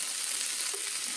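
Kimchi fried rice sizzles and crackles in a hot pan under high heat, a dense, close frying hiss with faint scraping as it is stirred.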